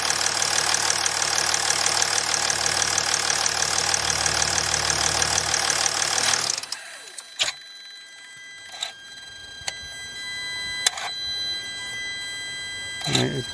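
A 2008.5 Jeep Grand Cherokee CRD diesel engine idles with a loud, steady clatter, then cuts out abruptly, leaving scattered clicks and short electronic tones.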